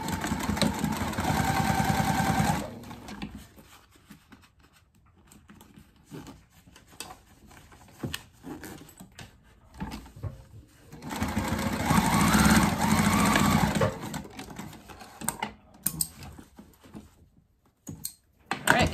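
Sewing machine stitching through cork fabric while making a waist pack, two loud bursts of fast, whirring mechanical stitching separated by quieter stretches of handling clicks and rustles, and a few sharp knocks near the end.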